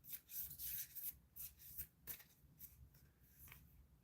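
Deck of cards being shuffled, quiet close rubbing and riffling swipes in an irregular series of short bursts, with no talking.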